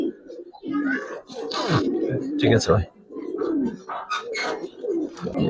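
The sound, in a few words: male pigeon cooing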